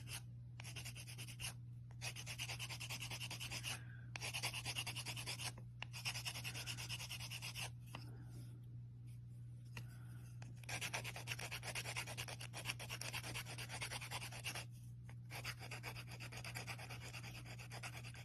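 Polymer clay being sanded by hand with sanding sticks, giving a steady, close scratchy rasp in repeated strokes with short pauses between bursts, over a constant low hum.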